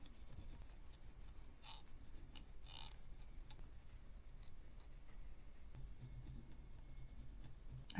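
Oil pastels rubbed and blended across paper give a soft, continuous scratchy rasp with brief brighter strokes, close and quiet, with no voices.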